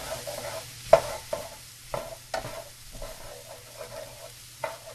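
Leftovers sizzling softly in a pan as a utensil stirs them, several distinct scrapes and knocks over a low hiss, near and with no voices.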